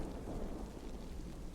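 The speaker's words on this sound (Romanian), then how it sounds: "Ce m-a spăriat de tunetul ăsta." A low rumble of thunder rolls on steadily amid rain-like hiss in a zombie apocalypse video game, broad and continuous with no voices.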